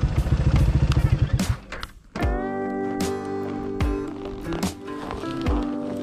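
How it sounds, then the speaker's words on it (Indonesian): A motorcycle engine putters with a quick pulsing beat, then cuts off, leaving a quieter stretch of sustained hum with occasional clicks and taps. "Kita saya matikan dulu sepeda motornya."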